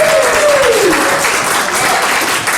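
A crowd applauds loudly and steadily at a car dealership walkaround competition, with a short descending whistle-like tone at the start fading under the clapping.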